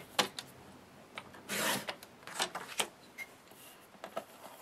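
Paper strips are cut for scrapbooking in a series of short, quiet raspy strokes, irregular and close-up, with a longer slicing pass partway through.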